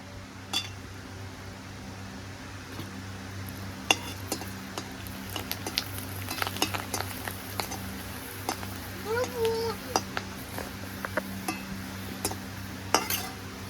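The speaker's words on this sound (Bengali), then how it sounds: "পাঁপড়গুলোকে এবার ভেজে নেব এই যে তেল গরম হয়ে গেছে এবার দিয়ে দেব" Papad fry in hot oil in a new home kitchen, a steady low sizzle under scattered sharp clinks of utensils and pan taps, irregular and close by, with occasional faint voices.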